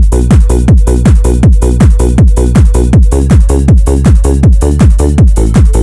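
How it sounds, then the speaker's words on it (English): A loud hard bounce electronic beat pounds steadily: punchy kicks locked with a deep bassline, topped by ticking hi-hats and sharp claps, driving and continuous. "just so you can hear just the kick and bass, and then with the hats and the clap."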